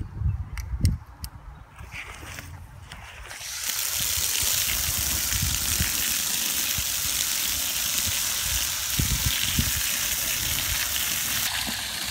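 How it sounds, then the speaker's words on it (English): Water from a hose or sprinkler hisses steadily onto a 24-foot garden bed just dressed with nitrogen, starting after a few seconds of soft handling noises and continuing unbroken, close and moderately loud. "So in this 24-foot bed, we'll put 6 ounces of nitrogen down, and then we immediately will water it in."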